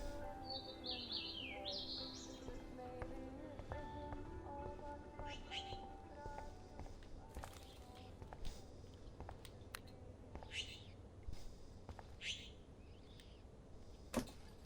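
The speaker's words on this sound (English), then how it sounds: "That poor little bird has been trapped in here." Small trapped bird chirping inside a room in the Life is Strange video game, several short high tweets early on, then quieter scattered clicks and rustles over a low steady background.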